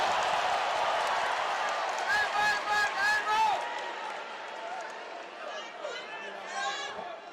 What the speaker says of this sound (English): greeted to loud cheers from the crowd here when Eduard released his head from that guillotine move